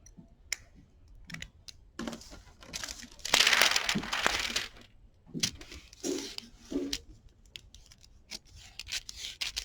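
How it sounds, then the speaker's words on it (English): Scissors snip through a shoulder pad being altered at a sewing table, producing close, irregular crisp cuts and rustling fabric, with a louder burst of crinkling in the middle. "So I cut here, and I will cut here."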